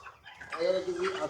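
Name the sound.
broiler chickens clucking on a farm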